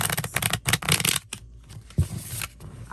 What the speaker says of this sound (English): Wow, let's see, can they do bridge shuffle?